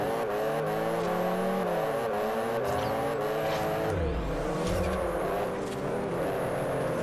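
A racing car's engine in the game Forza Horizon revs and shifts pitch without letup, climbing and dropping through the gears, with a brief low rumble and what sounds like tire scrub near the middle.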